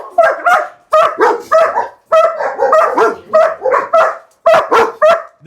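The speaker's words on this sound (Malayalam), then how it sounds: "ഇതെല്ലാം നമ്മുടെ മെയിൽ ഡോഗ്സ് ആണ്." German Shepherd dogs bark in a rapid, loud series of close, sharp woofs, coming in quick clusters of two or three with brief gaps between.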